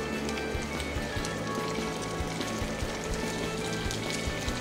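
Whole tomatoes cook in olive oil in a pan, making a soft, continuous sizzling crackle with scattered small pops, close and even throughout.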